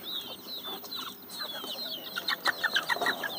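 Country hens on a grove farm cluck and chatter steadily close by, with several overlapping birds and a burst of louder, rhythmic clucks toward the end; no speech.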